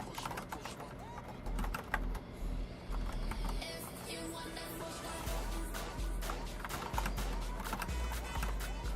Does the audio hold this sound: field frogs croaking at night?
no